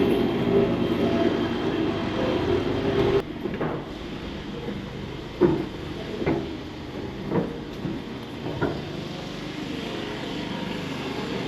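A metro train running beside a university campus gives a continuous low rumble that drops after a few seconds, followed by a string of spaced rail clunks and knocks at moderate distance.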